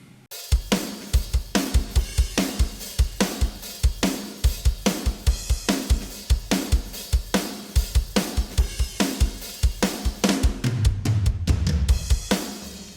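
Dry, unprocessed drum kit from Toontrack Superior Drummer 3 with the drum bus bypassed, playing a steady driving groove of punchy kicks, snare hits and busy cymbals with some tom fills near the end, loud and upfront with no talking.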